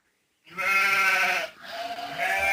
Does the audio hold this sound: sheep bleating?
yes